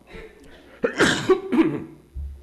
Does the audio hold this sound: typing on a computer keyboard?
no